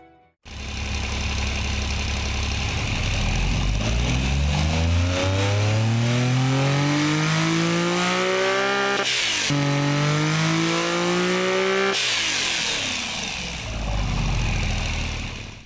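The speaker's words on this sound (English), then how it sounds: "let's give you a brief listen to what this inline 3 sounds like" Inline three-cylinder car engine simulated in the Automation game, revving up with a rising buzzy tone, briefly dropping, then climbing again and holding a loud steady rasp, close and continuous without speech.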